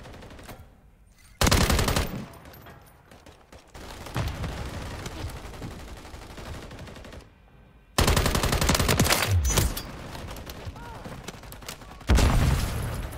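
Call of Duty MW3 gunfire, long rapid automatic bursts and heavy firing separated by brief lulls, loud and close, with occasional voices under the shooting.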